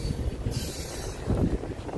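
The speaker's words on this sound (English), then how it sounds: "this train's gonna come to a stop" A train slows on railroad tracks in a historic Texas railroad town, its heavy low rumble and rolling wheel clatter continuing, with a brief high squeal partway through and a swell of rumble near the end.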